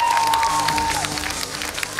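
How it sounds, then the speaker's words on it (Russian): An audience at a KVN comedy team competition final applauds, a short burst of dense clapping with crowd noise while a voice speaks over the start. "Наши аплодисменты и спасибо вам всем."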